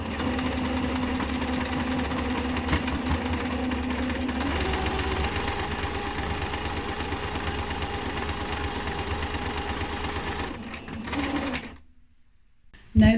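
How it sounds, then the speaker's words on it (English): A sewing machine stitches fabric pumpkin bags in a steady, close, even whir that runs for about ten seconds, then slows, stops and falls quiet. "we're going to sew along the top and sew along one of the sides, leaving one open"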